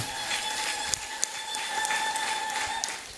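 A church congregation breaks into applause, a soft, diffuse patter of many hands with a few sharper claps standing out, set against a steady sustained tone in the background.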